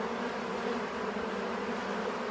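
A swarm of several thousand honey bees hums in a steady, dense drone, close and continuous with no pauses or voices.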